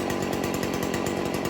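Stihl FS 40C weed eater two-stroke engine idling during carburetor tuning, a fast, even chattering putter, close and steady throughout.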